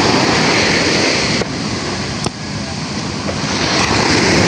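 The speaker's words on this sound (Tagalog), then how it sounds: "malakas ang alon" Strong ocean waves surge in a loud, continuous broadband wash, with brief dips around the middle of the clip and no voices.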